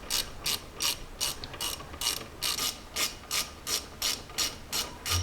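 Brake caliper bolts on a Jeep are tightened with a ratchet during a brake pad and rotor replacement, producing an even series of about a dozen sharp, close ratchet clicks at a regular pace, with no voices.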